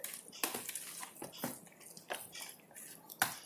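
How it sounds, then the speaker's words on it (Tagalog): Meatball mixture stirred in a bowl, a run of soft clinks and scrapes from utensil against the bowl at an irregular pace, close and fairly quiet. "Yan, haluin lang siya ng haluin."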